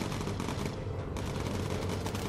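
Aircraft guns firing at a V2 rocket in the bomber game Bomber Crew, a dense, steady rattle of rapid shots under a constant engine drone, moderately loud and unbroken throughout.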